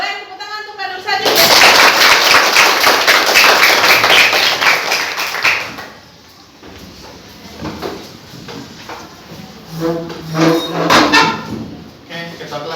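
A classroom of students claps for their teacher in a loud, sustained round of rapid hand claps lasting several seconds, then stopping, followed by voices talking.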